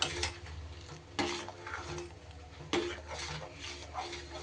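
A spoon stirs khichuri in a pot, giving quiet scraping and clinking with a few sharper knocks against the pot rim, close but faint, with no speech.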